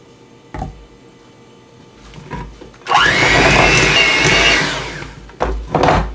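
An electric mixer whips vegan chocolate frosting made with heavy cream, kicking in with a loud whirring whine for about two seconds before winding down, framed by a few clunks and bumps.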